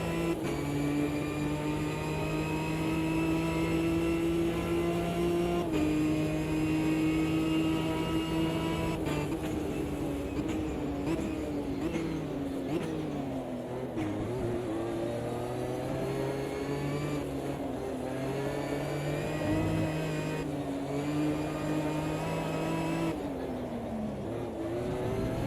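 A race car engine in Automobilista 2 revs steadily for a long stretch, its pitch climbing and dropping sharply through repeated gear shifts and braking for corners, loud and continuous with no talk.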